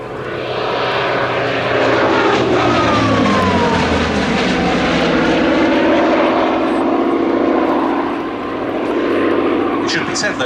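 A Hawker Fury II with a Bristol Centaurus radial engine flies past at an airshow, its loud, sustained propeller drone swelling and shifting in pitch for the whole pass, with a voice talking over it.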